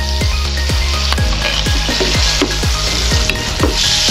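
Onion and garlic fry in a pan for a Filipino ampalaya with sotanghon dish, giving a loud, steady sizzle close up with repeated stirring scrapes roughly every third of a second and no talk.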